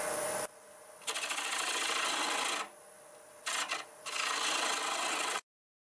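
A 1/2 inch bowl gouge cutting an English walnut bowl on a wood lathe at around 800 RPM, harsh loud shearing bursts separated by brief quieter gaps, ending abruptly.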